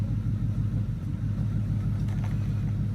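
A steady low engine rumble from a car being driven slowly onto a trailer or lift as a donor car for a Mustang rebuild, close and constant with a deep throbbing drone and no talk.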